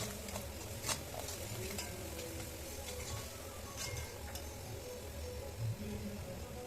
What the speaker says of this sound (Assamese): এইখিনি দিয়াৰ পিছত পুনৰ লৰাই দিলোঁ ভালদৰে।